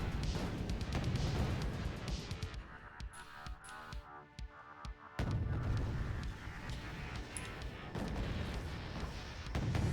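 Tank main guns fire at infantry in a wargame video game battle, heavy booming shots landing repeatedly under a dense rumble of combat, with a quieter stretch of sharp isolated cracks midway before the loud barrage returns.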